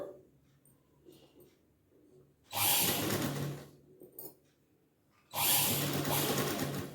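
A motorized sewing machine stitches along the cloth lining of a garment. It makes two loud, steady whirring runs of about three and two seconds, with a quiet pause between them filled with faint handling noise.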